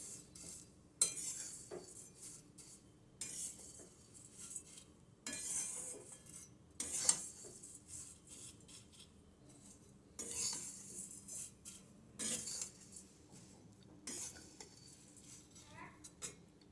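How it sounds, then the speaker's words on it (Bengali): Flattened rice (chira) is fried slowly and stirred in a pan, heard as faint, quiet scraping and clinks of a utensil against metal that come in short repeated bursts. "ধীরে ধীরে একটু সময় নিয়ে চিড়েটাকে ভাজবেন।"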